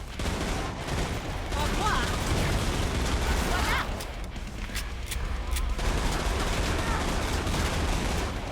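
Rapid gunfire from the Gunslinger class in the video game Killing Floor 2, dense bursts of shots layered over continuous game noise and effects, loud and sustained throughout.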